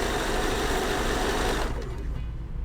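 A sewing machine runs a fast, continuous straight stitch along a pillowcase, close and steady, then stops partway through with a short mechanical wind-down.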